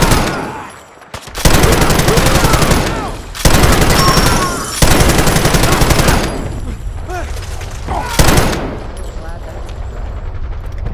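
Loud bursts of automatic gunfire from a Fallout 4 firefight, several sustained volleys broken by short gaps, close and harsh, with game voices shouting over the shooting.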